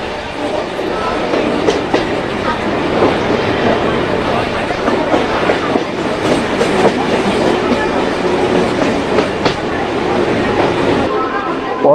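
A passenger train on the Katwa to Barddhaman line rolls along with a constant loud rumble and rhythmic clickety-clack of wheels on rails, heard from on board, with voices mixed into the noise.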